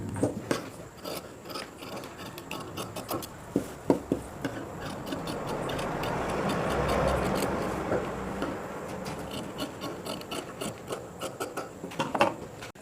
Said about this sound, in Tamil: இந்த துணியை அப்படியே இந்த டிசைன் மாதிரியே கட் பண்ணி விட்டுறணும்